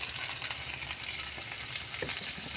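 Vegetables with chilli powder, turmeric, cumin-coriander powder and salt fry in a pan, a steady close sizzle and hiss with light stirring scrapes, moderate in level and without speech.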